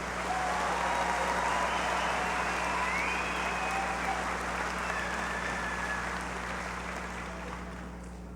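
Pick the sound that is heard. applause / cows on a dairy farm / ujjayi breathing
applause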